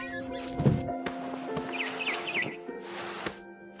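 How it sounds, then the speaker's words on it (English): A barn swallow chirps outside a window in What Remains of Edith Finch, giving a few quick warbling calls in the middle of a soft ambient background with light rustling. "Then I heard chirping outside my window. It was a barn swallow going back to her nest."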